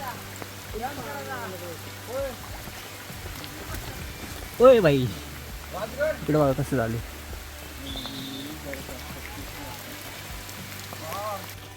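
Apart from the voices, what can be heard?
rain falling in the forest on Rajgad fort trek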